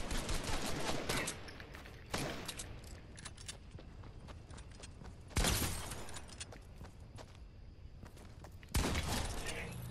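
Fortnite gunfire: loud, sharp bursts of shots break out several times, with quieter scattered pops and battle noise in between.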